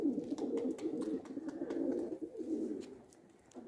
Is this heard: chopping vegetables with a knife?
no